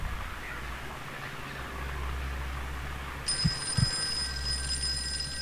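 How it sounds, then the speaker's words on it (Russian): Telephone ringing in the horror game Amnesia Silent Hill, a steady electronic ring that starts partway through over a low droning ambience, with a couple of dull thuds near it. "Начал звонить телефон."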